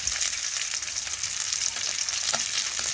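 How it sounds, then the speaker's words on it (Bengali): Catla fish heads frying crisp in hot oil in a home kitchen, a steady dense crackling sizzle that holds evenly throughout with a few brighter pops, close and alone without voices. "মাছের মাথাগুলো একটু তেলের দিকে নিয়ে আসছি। দেখুন এইভাবে একটু কড়া করে ভাজতে হবে।"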